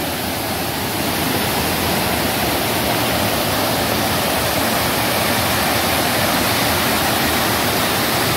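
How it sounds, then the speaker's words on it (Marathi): A powerful waterfall at a hidden spot in Konkan, roaring loudly and without pause, a dense broadband rush with no voices. "पाण्याचा प्रवाह इतका होता की धड चालता पण येत नव्हतं"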